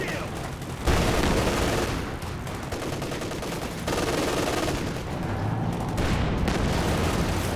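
Rapid, dense weapon fire and explosions in a 2v2 Company of Heroes 2 battle, loud and continuous with several surges, with a voice talking underneath.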